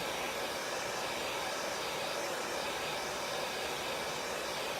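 A hair dryer blows steadily on chalk paint on a craft project, a constant close, even whooshing roar with no pauses.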